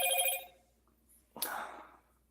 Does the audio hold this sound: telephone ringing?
yes